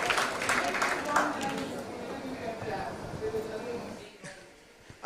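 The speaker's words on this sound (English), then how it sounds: "You can clap, at least he is trying and she is given right answer." A lecture hall audience claps for a student's answer, a steady wash of applause that fades out near the end, with a voice speaking over it.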